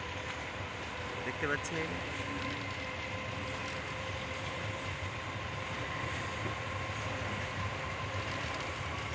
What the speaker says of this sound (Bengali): ওই তো ট্রেন দেখা যাচ্ছে, পেছন দিয়ে ট্রেন যাচ্ছে,